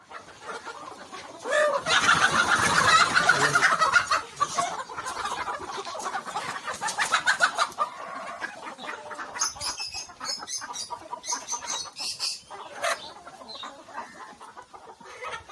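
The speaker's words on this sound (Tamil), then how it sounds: "இது பாத்தீங்கன்னா சண்டை சேவல் சார்." A fighting rooster at a black chicken farm clucks and crows loudly and close by, with other fowl calling around it in a busy, continuous farmyard din.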